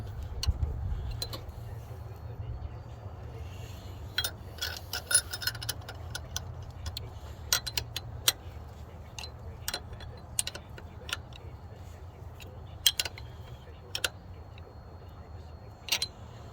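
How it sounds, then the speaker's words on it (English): Ratcheting box-end wrench clicking on the engine of a 2012 Ford Fusion during valve cover and spark plug work, faint sharp ticks scattered irregularly over a low steady hum. "I suppose I could probably use a ratcheting box end on this if it has a good enough offset."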